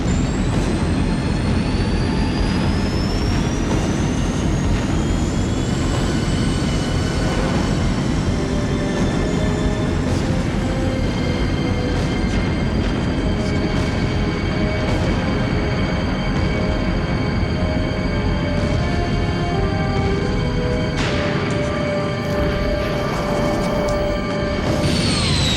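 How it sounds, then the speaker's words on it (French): A rocket or aircraft lifting off after a countdown, a loud, steady roar with whining tones sliding over a heavy rumble that carries without a break from start to finish. "C'est bon, décollage réussi."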